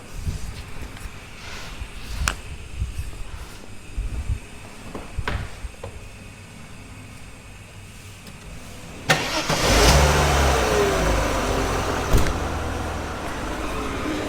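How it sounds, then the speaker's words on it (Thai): A Mercedes-Benz W124 E280 six-cylinder engine cranks with clicks and thumps, then catches and runs, settling into a steady, smooth idle close by. "เดี๋ยวลอง มาฟังเสียงเครื่องกันครับ"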